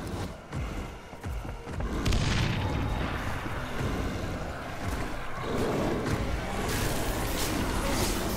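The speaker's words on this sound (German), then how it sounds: "Ich werf Granate." Grenade blasts in Dead Island Riptide, set amid a beach and surf ambience, give deep booms followed by a continuous roaring rumble like crashing waves and wind, with players talking faintly under it.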